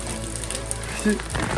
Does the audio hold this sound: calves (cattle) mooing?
no